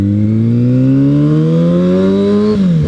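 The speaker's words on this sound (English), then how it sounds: "this might be the angriest sounding bike I've ever heard" A 2009 Kawasaki Ninja ZX-6R engine revs loud and close, its pitch climbing steadily for over two seconds before dropping sharply, heard alone.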